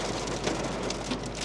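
Heavy rain pours down steadily and loudly, a dense, unbroken hiss of drops with no voices.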